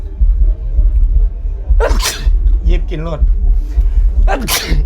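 Two loud, close sneezes burst out about two seconds apart amid nearby talking, with other voices carrying on between them.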